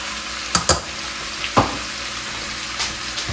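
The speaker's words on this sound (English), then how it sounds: "after you sear your meat down" Oxtail meat searing in a pan gives a steady, close frying hiss, broken by a few sharp clinks and scrapes of a utensil stirring the pieces.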